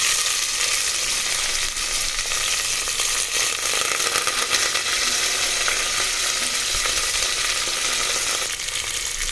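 Onions sizzle and fry steadily in hot oil with tempering seeds for a cabbage curry, a loud continuous crackling hiss with no pauses.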